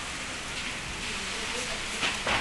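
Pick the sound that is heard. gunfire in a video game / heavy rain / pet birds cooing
heavy rain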